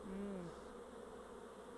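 A swarm of honey bees, just shaken into a hive box, buzzes faintly and steadily in the open air, with a brief louder drone at the start that then settles into a soft hum.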